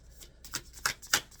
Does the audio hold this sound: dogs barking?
no